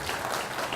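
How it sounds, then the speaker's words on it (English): A brief burst of audience clapping at a county meet-the-candidates night in Ohio, a dense steady patter from a modest crowd with no voices over it. "I think they deserve a round of applause for making themselves available to you."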